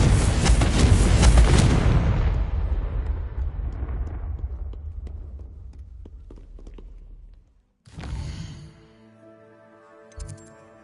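A loud fiery blast from the Confringo fire spell in Hogwarts Legacy booms and rumbles away over several seconds, followed by a short burst of game sound effects with ringing tones.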